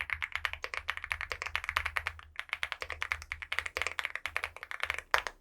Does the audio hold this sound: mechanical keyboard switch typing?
yes